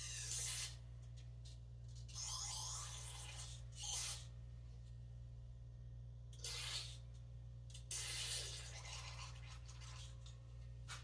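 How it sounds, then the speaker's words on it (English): Carb cleaner sprays in four short, sharp hissing bursts into a 1970 Kawasaki Bushmaster motorcycle, each separated by a pause over a steady low electrical hum. "we're gonna spray some carb cleaner in here"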